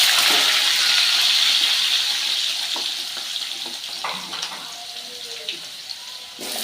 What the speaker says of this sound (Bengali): আমি আলুগুলো ভেজে নেব